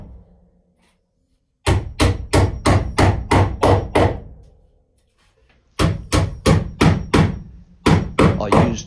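Hammer blows driving monel ring nails into pre-drilled holes in a wooden carvel-planked boat deck, three loud close bursts of six to eight sharp evenly spaced strikes with brief pauses between them.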